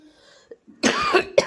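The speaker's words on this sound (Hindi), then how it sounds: "वैसे ही खांसी शुरू हो जाती है" A woman in a home kitchen making potato papads coughs twice, close and loud: a harsh, raspy burst followed by a shorter one after a quiet start.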